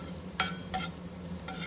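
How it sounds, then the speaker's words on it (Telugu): Chopped garlic sizzles softly in butter in a pan, with a low steady fry broken by three brief scraping stirs. "ఇక్కడ వచ్చేసి ప్యాన్ పెట్టుకొని ఇందులోకి బటర్ని అయితే యాడ్ చేసుకున్నాను. అలాగే గార్లిక్ అయితే యాడ్ చేశాను, చాప్ చేసుకున్న గార్లిక్ని."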